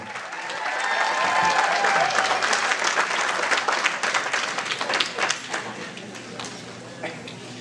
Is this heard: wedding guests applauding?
yes